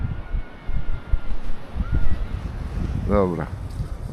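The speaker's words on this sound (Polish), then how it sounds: "wiatr się zerwał teraz." Gusty wind buffets the microphone with low rumbling bursts throughout, while a voice speaks briefly near the end.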